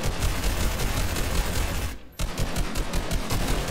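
Rapid automatic gunfire from the Fortnite video game rattles in dense, continuous bursts, cutting out briefly partway through before resuming just as loud.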